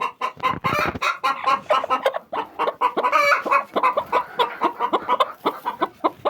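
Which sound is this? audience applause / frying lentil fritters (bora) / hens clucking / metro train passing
hens clucking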